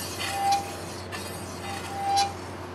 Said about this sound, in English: I straight up think they made this rotor way too thick. That it rubs up against the caliper housing itself.